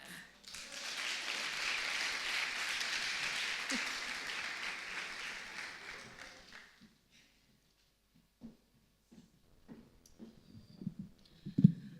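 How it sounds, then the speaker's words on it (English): Audience applause at a talk, a sustained, evenly dense clapping for about six seconds that tapers off into near silence, followed by faint scattered clicks and small handling noises. "A round of applause would be banger"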